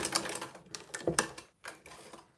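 A sewing machine runs a back stitch on a waist bag in short close bursts of rapid mechanical clatter, stopping briefly between runs.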